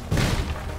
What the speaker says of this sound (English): Nope, more explosions